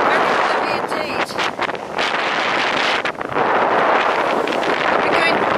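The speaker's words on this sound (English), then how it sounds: "this is what I said about being windy. This is it, look." Strong wind buffets the microphone on an autumn countryside walk at Rowberrow and Dolebury Warren, a loud continuous roar with gusty swells throughout.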